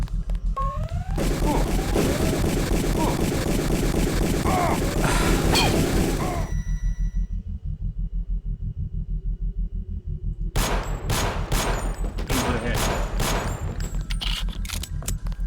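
Gunfire from the Deus Ex video game (GMDX mod): dense rapid game shots and combat noise fill the first six seconds, then a quiet pause, then a fresh run of sharp separate shots near the end.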